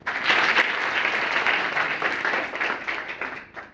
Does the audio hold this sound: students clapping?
yes